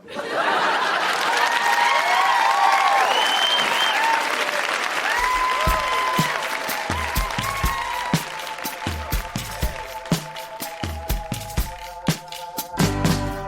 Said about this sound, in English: Huge round of applause for everybody who read tonight.